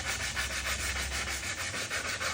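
Close, steady rubbing of 220 grit sandpaper along wooden edge banding, a continuous scratchy swish with even back-and-forth strokes and no talking.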